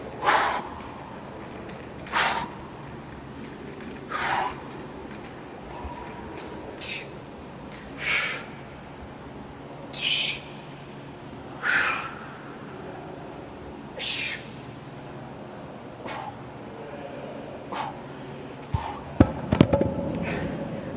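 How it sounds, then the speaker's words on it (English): Heavy, forceful breaths during an abdominal workout come in a steady rhythm, a sharp exhale roughly every two seconds, close and loud, with a louder cluster near the end. "Once again, you can really hear that breathing."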